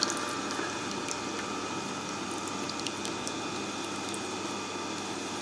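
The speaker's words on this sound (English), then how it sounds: "the water in the tray gets sucked up by the grinding stone and just disappears" Water running into the tray of a Tormek T-4 grinder, where the grinding stone soaks it up; a steady, fairly quiet trickling and bubbling fill with faint splashy ticks, and no talking.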